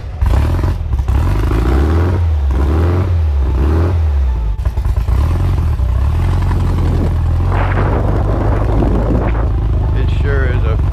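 A 1975 VW-powered trike engine revs while riding, a loud low throbbing drone that rises and falls in repeated surges, with wind rush and a voice talking over it.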